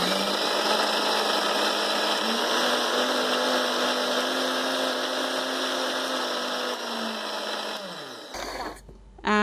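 A Preethi Blue Leaf Diamond mixer-grinder grinding ginger runs as a loud, steady, high-pitched whine for about eight seconds, then spins down and stops with a clunk of the jar at the end.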